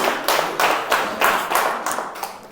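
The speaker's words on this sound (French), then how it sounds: "On applaudit Enam pour son grand travail aussi." Church congregation clapping for a few seconds, a steady, fairly near patter of hands with rhythmic bursts, no voices over it.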